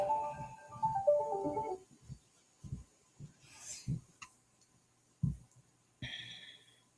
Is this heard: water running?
no